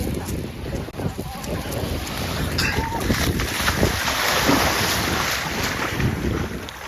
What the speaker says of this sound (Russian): Мы на море.